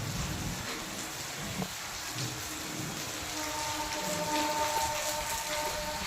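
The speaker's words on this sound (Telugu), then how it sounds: "2 days నుంచి పడుతుంది వర్షం బాగా" Heavy rain pours steadily onto a flooded street in Hyderabad, a continuous soft patter and splashing hiss at moderate distance with no voices.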